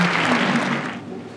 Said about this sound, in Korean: 네, 박수 보내주십시오